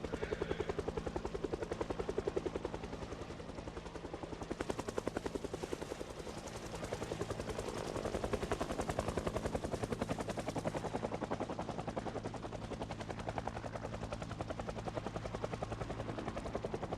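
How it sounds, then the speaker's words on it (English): A helicopter in the video game Project Zomboid hovers overhead, its rotor chopping in a fast, even beat that swells and fades slightly but never stops, fairly faint in the mix. "we've now 2 hours into helicopter and it doesn't look like he's leaving."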